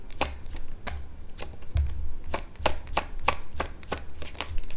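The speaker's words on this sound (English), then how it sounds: "I'm going to put them back and shuffle again." Tarot cards are shuffled by hand close up in a quiet room, giving a quick run of sharp, irregular riffling clicks and taps with no talk.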